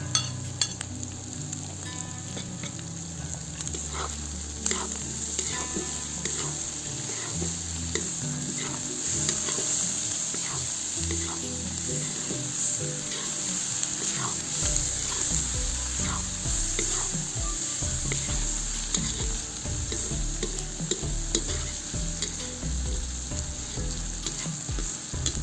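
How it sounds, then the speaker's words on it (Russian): Carrots sizzle in hot oil in a kazan over a wood fire for Uzbek mastava soup, with steady frying hiss and repeated scraping, clattering stirs of a utensil throughout. "Теперь добавим морковь и перемешаем."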